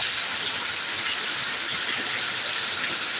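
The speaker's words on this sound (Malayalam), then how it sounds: "ഇവിടെ നല്ല പെരുമഴ കേട്ടോ പെരുമഴ പെരുമഴ" Heavy rain pours down in Thiruvananthapuram as a dense, unbroken hiss that stays constant throughout, with no voices.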